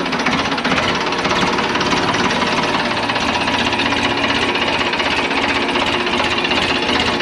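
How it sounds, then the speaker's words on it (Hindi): A Ford 3610 tractor's diesel engine runs close by, loud and steady, with a rapid rough knocking rhythm that holds unbroken and stands alone with no voices. "ट्रैक्टर की आवाज कितनी प्यारी है जी।"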